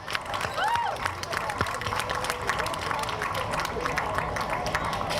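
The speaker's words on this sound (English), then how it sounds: "let's give a round of applause to our mayor" Audience applause and cheering for the mayor at a World Refugee Day event in Pittsburgh: a steady wash of clapping with a few scattered whoops, sustained for several seconds at moderate distance.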